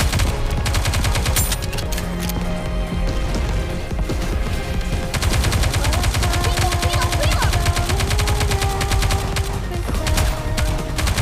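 Rapid automatic gunfire from Goddess of Victory: Nikke, dense continuous bursts layered with game music and effects, loud and unbroken throughout.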